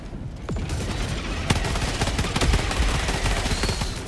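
Rapid automatic gunfire from a deployed sentry turret in the video game Helldivers, a dense, continuous fusillade of loud shots that keeps going for several seconds with no talk.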